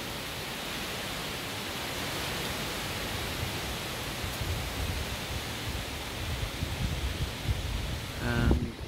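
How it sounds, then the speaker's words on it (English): Wind picking up outdoors around water tanks and a small orchard, a close, continuous broadband rush that swells and buffets louder toward the end, with no talk. "You can hear the wind is picking up today."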